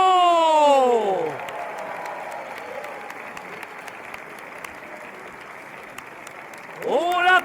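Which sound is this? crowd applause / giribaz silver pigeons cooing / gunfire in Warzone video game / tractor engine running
crowd applause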